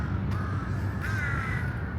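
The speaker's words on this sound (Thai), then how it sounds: "แบงค์ เห็นไหม อีกานะลูก อีกาเยอะมากเลย" Crows cawing in Lumpini Park, Bangkok, a few harsh calls ringing out over a constant background of city traffic noise, moderately close, with no voices.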